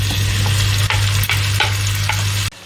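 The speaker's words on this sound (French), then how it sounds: "on laisse revenir jusqu'à ce que la tomate et les oignons ramollissent" Tomatoes, onions and chillies fry and sizzle in a pan for an Indian chicken rice dish, a steady close hiss broken by a few soft stirring scrapes, then a sudden drop near the end.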